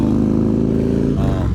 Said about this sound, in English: But excuse this motorcycle here.